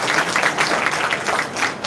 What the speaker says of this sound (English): So I wish we should give them a right applause for all the team members